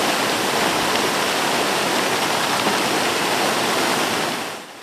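Fountains pour water in a steady, loud, broadband rush that fills the scene without pause until it fades out at the end.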